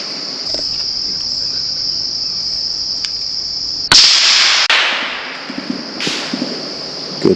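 A suppressed .22lr rifle fires once at a squirrel in trees at night, a sharp muffled crack about midway, set against a steady loud chorus of crickets.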